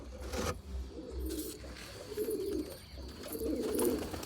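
Pigeons cooing close by, with soft, low, repeated coos rolling one after another over a light background hiss.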